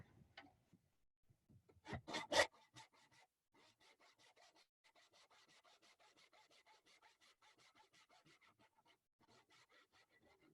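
A hand saw cuts tenon shoulders in wood for a mortise and tenon joint: a few louder strokes, then a long run of quiet, even back-and-forth rasping strokes, close and alone.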